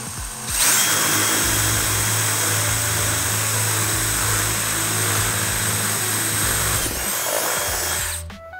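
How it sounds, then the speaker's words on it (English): A power drill bores a hole in a LOC/Precision Minie Magg high power rocket kit, spinning up sharply and then holding a steady loud whine for about seven seconds before winding down, close and alone. "All right, we're gonna drill another one roughly in the same spot."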